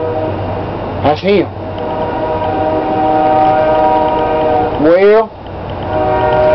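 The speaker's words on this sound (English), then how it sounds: "that's a train going by" A train passes nearby with two loud horn blasts, one early and one near the end, over a steady rumble while people talk.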